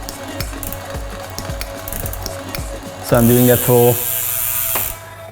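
A SRAM Red eTap bicycle derailleur whirs and clicks during trim adjustment, a couple of short buzzy motor bursts following a ticking freewheel, under a voice speaking.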